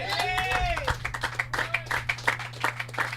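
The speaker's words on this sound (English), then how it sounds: "As we hear the applause in the background, that's 50 for Melantha." Crowd at a cricket match claps and applauds a batsman's half century, a spread of steady clapping heard under a commentator's voice, moderately loud and somewhat distant.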